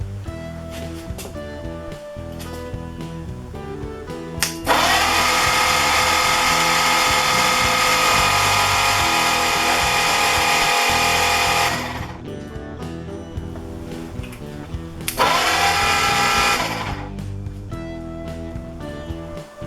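A Ford Flathead V8 bound for a 1962 Willys wagon, cranked over with its spark plugs removed: two long, loud sustained spells of steady starter-driven churning, one about seven seconds and a shorter one later, with quieter mechanical hum between.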